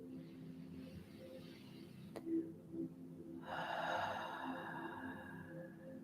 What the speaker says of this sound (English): take a conscious breath